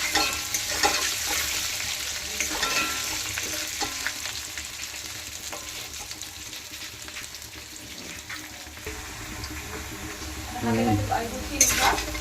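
Potatoes frying in a pan with salt and turmeric, a steady close sizzle with occasional stirring scrapes throughout, brief louder clatter near the end.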